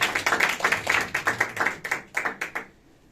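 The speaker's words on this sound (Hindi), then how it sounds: "पाया से ताली मारो" An audience claps in rhythmic unison, a run of quick, evenly spaced hand claps that is fairly loud and close, then breaks into a few scattered claps before stopping.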